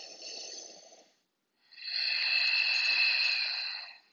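Deep breathing during a yoga core workout: a short exhale, a brief pause, then a long, steady, airy breath drawn close to the microphone.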